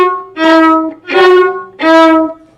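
A beginner violinist bows three separate sustained notes, alternating between the first and second fingers, in an even, close, steady rhythm with short gaps and no talk.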